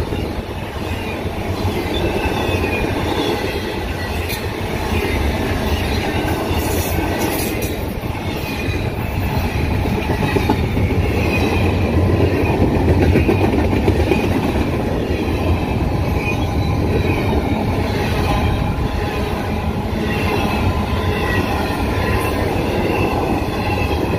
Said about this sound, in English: This is a mega train, guys.